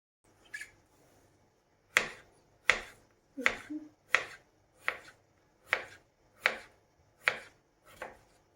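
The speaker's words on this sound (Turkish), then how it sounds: "Patatesleri ince ve yarım ay şeklinde doğruyoruz." A knife cuts potatoes into thin half-moon slices on a cutting board, producing nine sharp, evenly spaced chopping knocks, close and distinct against a quiet kitchen background.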